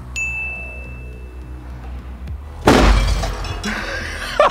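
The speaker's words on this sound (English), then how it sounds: "Yeah, it'll break glass." Glass shatters loudly after a Broadsider cannon shot, a sudden crash and spray of breaking pieces following a quieter stretch with a steady tone, ending in a final sharp impact.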